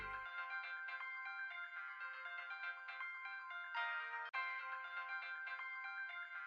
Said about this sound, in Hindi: ये तो प्रिया का फोन है।